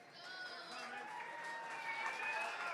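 Crowd at a lumberjack gala applauds the crew called on stage, a steady wash of clapping and some cheering held at a fairly even level, with a voice or two mixed in.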